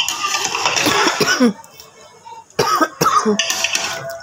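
A few rough coughs close to the mic, broken by short pauses, with a brief burst of throat noise between them.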